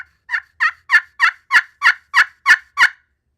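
Turkey gobbles made on a turkey call: nine quick, evenly spaced rattling yelps in a steady rhythm, loud and close, with no talking.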